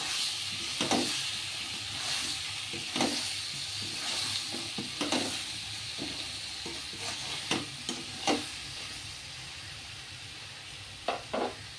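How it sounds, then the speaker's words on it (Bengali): Vegetables for navaratna paneer sizzle in a pan under a steady hiss, broken by sharp scraping stirs at irregular intervals, with no talking. "সবজিগুলো দিয়ে দিলাম এর মধ্যে, ভালো করে মিশিয়ে নেবো সব।"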